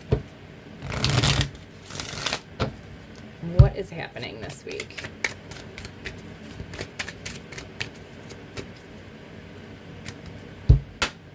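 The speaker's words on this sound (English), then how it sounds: "Let's get a good shuffle here." Cards being shuffled in quick riffling bursts with soft flicks and taps, close by, while a voice speaks briefly near the start.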